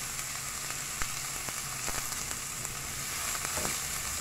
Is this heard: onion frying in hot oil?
yes